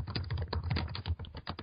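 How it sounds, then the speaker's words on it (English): Close, rapid clatter of typing on a computer keyboard, with irregular bursts of key clicks and no talking. "Yep. Typing."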